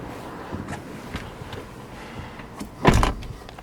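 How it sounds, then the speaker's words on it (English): Electric folding mirrors on a Toyota C-HR 1.8 hybrid SUV whir as they move, a quiet motor hum followed by a firm click or thump as they lock into place, close up. "Electric and folding mirrors."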